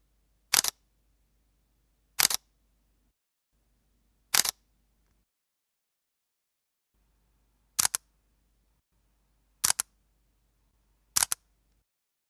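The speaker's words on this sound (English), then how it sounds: "It has an electromagnetic shutter, which is a bit quieter than the mechanical shutter on the G7." Panasonic GX80/GX85 camera firing its quiet electromagnetic shutter: six crisp, isolated clicks spaced roughly two seconds apart, close up, with near silence between them.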